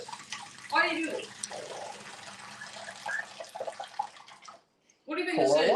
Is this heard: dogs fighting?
no